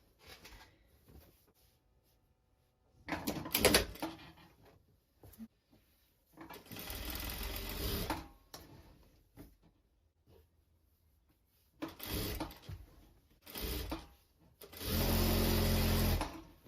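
A sewing machine runs in several short bursts while hemming a wrap dress with a narrow double fold, the motor whirring loud and close, separated by quiet pauses.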